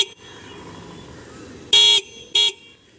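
A homemade musical horn on a motorbike sounds two short, loud, bright tonal blasts in quick succession after a low idling hum, the second burst briefer than the first.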